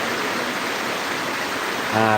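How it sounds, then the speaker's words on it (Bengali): Heavy nighttime downpour in Dhaka, a steady dense broadband hiss of rain running without a break, with a brief voice-like tonal sound entering at the very end. "আজকে প্রচুর বৃষ্টি হচ্ছে আমাদের এখান থেকে"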